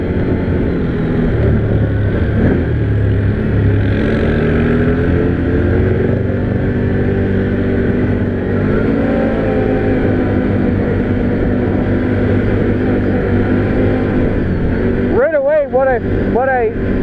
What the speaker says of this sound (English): the engine being a twin certainly sounds different from what my single does